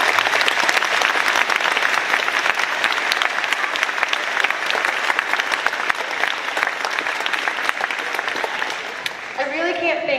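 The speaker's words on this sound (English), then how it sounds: "Can we please give them a round of applause?" Concert audience at a beginning orchestra debut breaks into a long, loud round of applause, dense and steady, tapering slightly near the end as a voice begins to speak.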